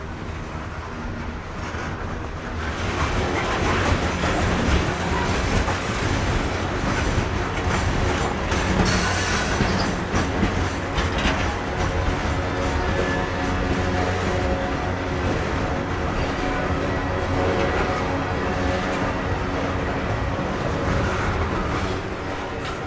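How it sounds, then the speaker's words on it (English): Norfolk Southern train wheels hum steadily on the rails in a rail yard as a diesel train rolls past at rising speed, a loud continuous rumble with a brief squeal near the middle. "The train speed increases, evidenced by the hum of the wheels on the rails."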